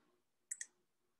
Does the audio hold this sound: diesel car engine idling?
no